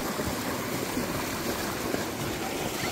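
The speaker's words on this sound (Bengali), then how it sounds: "সেই জলগুলো বয়ে যাচ্ছে" Stream water flows through a cave area in Meghalaya as a continuous, even rushing wash with no breaks, moderately loud and nearby.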